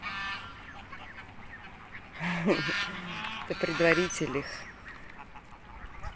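A flock of geese near a beach in Mersin gives a few short bursts of nasal honking at moderate distance, over a soft background as someone speaks.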